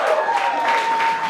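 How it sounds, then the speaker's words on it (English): A comedy crowd claps and cheers for a comedian, a dense burst of applause filling the room, with a faint voice threaded through it. "Thank you so much for a round of applause for him"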